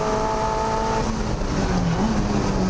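Turbocharged Mazda MX-5 racing a lap at a time attack event, a loud continuous engine drone from inside the car with shifting pitch as it accelerates, rising toward the end.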